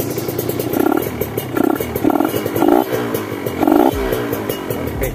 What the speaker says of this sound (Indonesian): seperti ini untuk suara knalpot dari Ninja 2 tak tersebut